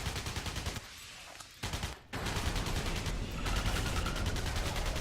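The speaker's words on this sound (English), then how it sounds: "The shot cannon must be a shotgun," Rapid bursts of shotgun fire in the video game Alien Breed 2: Assault crackle loudly with brief pauses between volleys.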